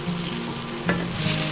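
Tomatoes stir-fried in a pan give a steady close sizzle with a soft scrape of stirring midway, constant throughout the short stretch.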